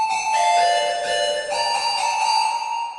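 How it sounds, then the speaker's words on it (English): Bright, high synth tones held and ringing inside a smooth, shimmering plate reverb wash, steady and fairly loud with no voices. "So it kind of gives you like an echo feeling."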